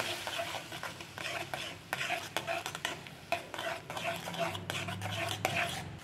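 Semolina upma with boiled tomato and coriander is stirred with a spoon in a pan, giving irregular scraping strokes and light metallic clinks close up, over a soft simmering hiss with no talk.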